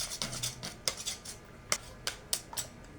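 Utensil scraping and tapping in a bowl as dadar gulung batter with egg is stirred, a quick irregular series of clicks and scrapes up close, with no talking.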